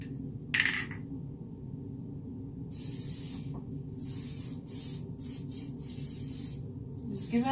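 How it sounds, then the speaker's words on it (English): Sheen hair spray misted from a can during hair styling, several short hissing bursts of varying length in quick succession over a low steady background hum, fairly quiet and close. "And then you take your Sheen spray."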